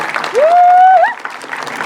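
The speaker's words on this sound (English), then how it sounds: "give her a round of applause." Applause from a small audience at a live event, fairly soft clapping broken by one loud rising whoop or whistle that lasts under a second, with no speech.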